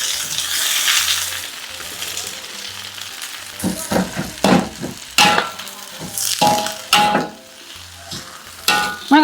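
Katuk leaves dropped into a hot pan with slightly scorched garlic, a steady loud sizzle with bursts of stirring and scraping clatter, no talk.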